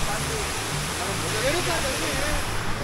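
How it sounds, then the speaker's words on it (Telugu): Steady roar of Pambar Falls in Kodaikanal, broad and constant rushing water filling the scene, with faint voices low underneath. "పంబార్ ఫాల్స్ దగ్గర వచ్చాను."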